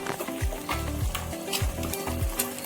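Onions fry in a pan with garlic paste, a steady loud sizzle under four rhythmic scraping strokes of a spoon stirring, close up with no voices.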